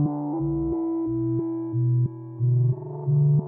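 Synth notes from the Dials app on iOS modulated by a square-wave LFO, jumping abruptly between levels in a choppy on-off rhythm as the notes change, clean with no voices.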